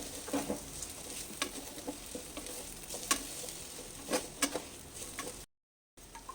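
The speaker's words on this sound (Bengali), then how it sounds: "এবার আমি সবগুলোকে একসাথে মিশিয়ে নেব দিয়ে ভাজবো এবার" Leftover rice mixed with egg and spices sizzles in a pan while a spatula stirs and scrapes it, with soft crackling and irregular scraping taps, fairly close, and a brief dropout near the end.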